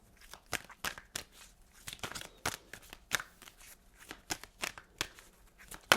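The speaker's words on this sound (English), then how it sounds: "I'm going to shuffle actually and get one more." Cards are shuffled in quick riffling bursts, crisp and close, with soft papery flicks between them.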